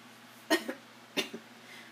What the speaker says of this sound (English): I knew I was gonna cough.